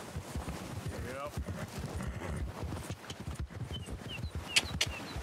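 Hooves of a horse in Red Dead Redemption 2 clop along at a steady walking pace over rough ground, with speech from the game and brief sharp effects mixed in.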